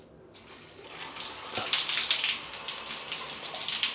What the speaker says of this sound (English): Right, let's give the shower a go if I can remember how it works.